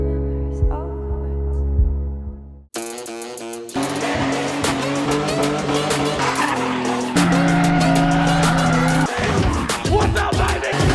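A boosted Ford Fairlane, a 12-second car, accelerates hard with tires squealing: a low idle rumble, then a sudden loud surge of engine roar and screeching rubber that holds and shifts pitch as it pulls away.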